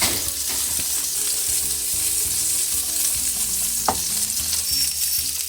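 A thick steak sears in a hot pan with a strong, even sizzle that holds steady throughout, marked by one brief scrape or knock partway through, close and loud with nobody speaking.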